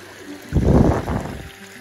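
Mountain stream flowing near a hiking trail in the Canadian Rockies around Banff, a steady broadband rush of water that swells louder midway and then eases, heard alone without talk.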